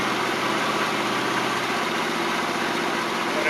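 A 1981 Honda Silverwing GL500 motorcycle idling as it warms up with the choke easing off, a steady close mechanical drone with fine rapid pulsing and no voices.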